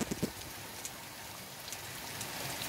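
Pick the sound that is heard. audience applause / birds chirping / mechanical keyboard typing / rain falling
rain falling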